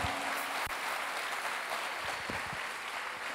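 A church congregation applauds steadily, a dense, continuous wash of clapping that stays even throughout.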